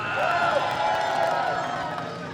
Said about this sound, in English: Come on, guys. Big cheer.